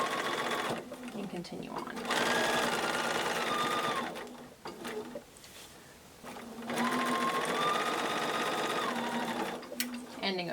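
A sewing machine runs in bursts of rapid stitching through quilt block seams, pausing between runs while someone talks quietly over and between the whirring.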